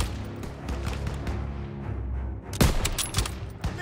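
Heavy gunfire in Call of Duty WWII during a battle to take a church, with sustained overlapping shots and a loud close blast near the end, then more bursts.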